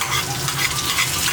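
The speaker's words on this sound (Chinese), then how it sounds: "留一点点低油，开小火，好下姜葱蒜" Ginger, scallion and garlic fry in a little oil over low heat, giving a continuous bright sizzle with soft stirring scrapes, close and steady, no voices.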